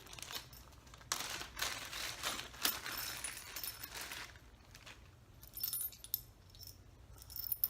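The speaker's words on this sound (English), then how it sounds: "There's also a little set of keys there." A small set of keys for a locking case jangles up close in light, metallic bursts, with quiet rustling between them.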